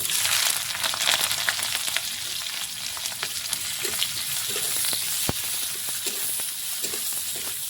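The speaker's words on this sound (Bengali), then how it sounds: "পেঁয়াজটাকে একটু গোল্ডেন করে ভেজে নেব" Chopped onion and two green chillies frying in hot oil in a pan for paat shaak, a steady close sizzle with small pops and occasional stirring scrapes.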